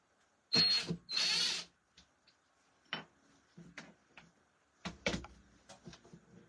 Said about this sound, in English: You're just going to use your screwdriver or your drill to unscrew these.